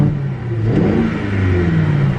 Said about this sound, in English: this thing with a turbocharged V8 sounds amazing